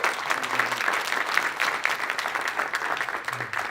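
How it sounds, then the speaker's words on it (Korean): A church seminar audience claps steadily to welcome missionaries onto the stage, a dense continuous patter of many hands held at an even level from start to finish. "우리가 선교사님들이 나올 때는 박수로 우리가 격려를 합니다"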